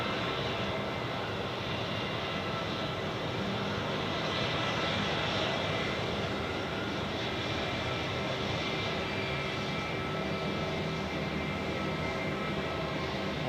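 An Air Canada airliner taxiing at Zurich Airport hums with a constant, even jet-engine drone at a steady level, with no voices over it.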